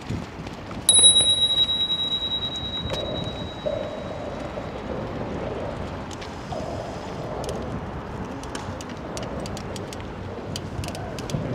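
A single bright bicycle bell ring near the start while cycling along the Hudson River Greenway in Manhattan, followed by steady road and wind noise.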